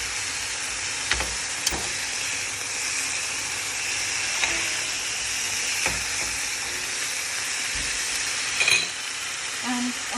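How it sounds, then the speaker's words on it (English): Steak searing on a hot griddle, a steady close sizzle and hiss with occasional scrapes and clanks of a utensil as the meat is turned. "cook it on both sides and baste it with the sauce that I made earlier"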